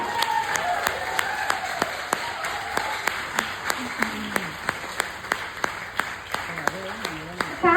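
An audience at a meeting in Kothapet claps in unison, with sharp, evenly spaced beats that repeat steadily under a speaker's voice.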